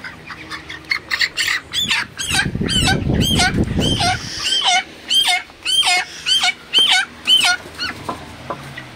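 Broiler chickens in a farm shed give repeated loud squawks and clucks, fairly close, with a burst of rustling and flapping partway through as birds are caught.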